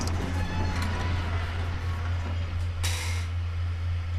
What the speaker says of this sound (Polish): O, krzesło mi pikło.